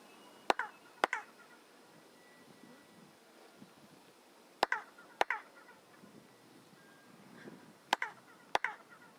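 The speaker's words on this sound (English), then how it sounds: "The stone will produce a sound of a bird, and that bird we call quetzal." Three pairs of sharp claps, each followed by a quick chirping echo from stone that resembles a quetzal bird call, set against quiet background.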